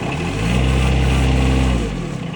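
The engine of a Bobcat MT100 mini track loader runs close by with a loud, steady, low idle and rises slightly in the middle of the brief clip.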